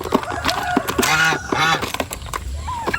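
Several turkeys squabble at close range, a tom's harsh gobbling honks and squawks rising in a loud burst in the middle amid scuffling, with scattered clucks before and after.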